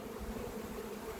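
Honeybees at a healthy hive, a steady close drone of buzzing that holds evenly through the whole short stretch with no voices.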